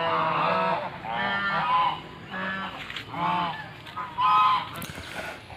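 A flock of domestic geese at a farm honks loudly in a series of five or six nasal calls, close by, with no talk over them.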